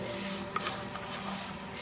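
Butter browning in a pan for orzo pasta, giving a soft, steady sizzle with faint crackles, quiet and continuous throughout without talk.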